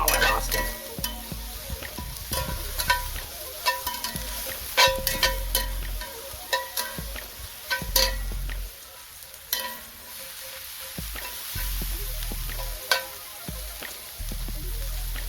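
Broccoli sizzling in a hot pan for a chicken and rice dish, steady crackling fry broken by clattering stirs and scrapes of a utensil, close and fairly loud, with no talking.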